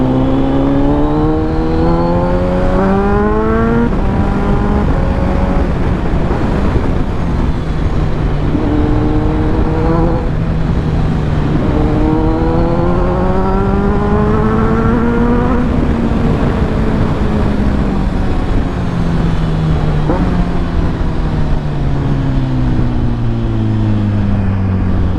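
A Kawasaki Ninja 1000SX inline-four motorcycle with an SC Project exhaust is ridden on an expressway, its loud close engine note rising through the gears with repeated revving climbs and downshifts.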